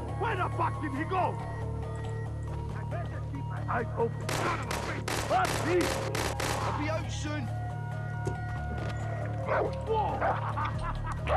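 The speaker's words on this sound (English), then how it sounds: "Dogs." Dogs bark repeatedly amid bursts of gunfire in Far Cry 3 co-op gameplay, several loud, tightly spaced shots clustered in the middle, with game ambience and occasional voices throughout.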